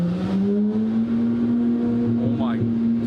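A Lamborghini SVJ drives with a close, continuous engine drone that climbs slightly in pitch, and a voice is heard over it.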